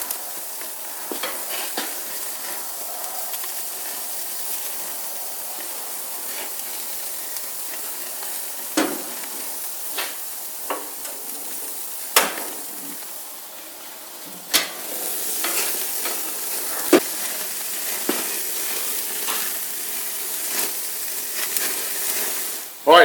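Texas BBQ beef burgers sizzle on a grill with a flare-up. The steady hiss is fairly quiet and broken by sharp pops and crackles throughout.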